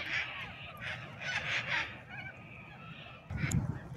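A noisy flock of crows in a Sydney botanic garden caws repeatedly, harsh overlapping calls in bursts, fairly faint and somewhat distant, with a low rumble joining near the end.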